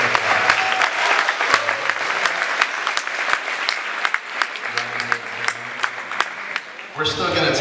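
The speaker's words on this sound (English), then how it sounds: "Let's give Rona a applause" Audience applause at a high school award ceremony, a steady dense clapping from a room full of people with a few louder nearby claps, fading as voices take over at the end.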